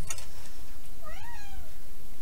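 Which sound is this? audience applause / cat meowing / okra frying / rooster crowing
cat meowing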